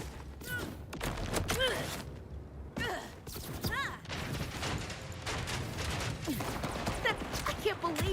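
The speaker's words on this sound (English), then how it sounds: "I can't believe I'm shooting guns, literally." Gunfire in the video game Borderlands 4 comes in bursts of sharp, punchy shots mixed with impacts and game effects, layered among busy combat noise and brief voice sounds.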